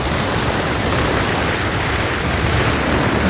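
Strafing run from an attacking aircraft in Company of Heroes 3, tearing into tanks: dense, continuous rapid gunfire and impacts filling the whole stretch, loud and close with no pauses and no talk.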